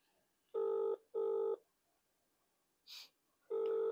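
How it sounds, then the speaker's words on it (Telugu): Outgoing call ringback on a phone line: two steady electronic tone bursts, a pause, then another burst, with a short breath heard in the gap. "ఫోన్ రింగ్ అవుతా ఉన్నది"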